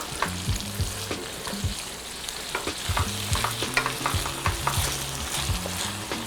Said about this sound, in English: To my tofu sauce, I'm gonna add my blanched tofu. Give that a good stir.